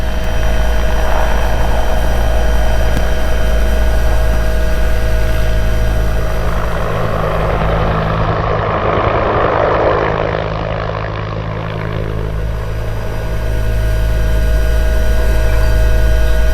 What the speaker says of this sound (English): Now I'm starting a vertical climb by turning the helicopter clockwise.